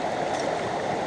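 Water rushing steadily through a gold panning sluice in the UK, a continuous close gurgling flow with no pauses and no voices.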